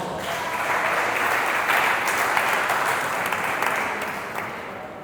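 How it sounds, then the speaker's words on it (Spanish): Church congregation giving applause to the Lord during a sermon, a full, steady roar of clapping that swells in and holds for several seconds before easing slightly at the end. "Dele un aplauso al Señor."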